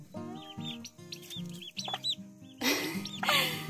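A turkey hen with her turkey poults on a farm: repeated high peeping chirps from the young mixed with low clucks and a loud, harsher call near the end, close by and without talk.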